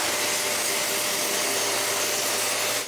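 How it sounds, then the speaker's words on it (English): Orbital sander with a round pad working 220-grit sandpaper over a stripped wooden chair, a loud, steady motor whir with broadband hiss running the whole time before cutting off at the end. "I need to resand it everywhere with 220 grit sandpaper. I begin with all the places that my round pad can access"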